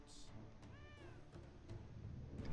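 A cat in the video game Pathfinder: Kingmaker lets out a single short, rising-and-falling meow over a quiet, low background.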